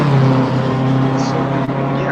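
Steady engine drone of a 1.8 car being driven fast on a track, loud and continuous from inside the cabin, with a constant low hum throughout and no voices over it.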